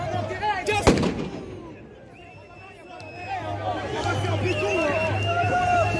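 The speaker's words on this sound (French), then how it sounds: "Regardez, ils jettent des grenades en l'air." Grenades launched into the air during a yellow-vest street protest in France: one sharp nearby bang, then distant crowd shouting, whistles and chatter over a low rumbling background, with people talking.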